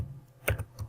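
Typing on a computer keyboard, a few quick clicks of keys pressed in a short burst, close and fairly quiet with no talking.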